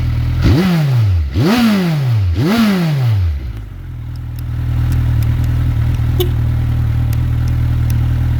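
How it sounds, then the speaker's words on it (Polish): A 2008 Suzuki Bandit 1250 motorcycle engine revs up sharply three times in a row, each rise falling back, then settles into a steady rumbling idle up close. "Dwa razy go przegazuję, bo go nie gazowałem."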